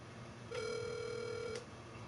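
A single steady telephone dial tone of about one second, sharp and clear, starting and stopping abruptly against a faint background hum.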